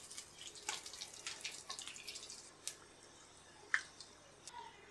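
Wheat bondas deep-frying in hot oil, a soft steady bubbling hiss with scattered crackles and a couple of sharper pops, fairly quiet and with no talking.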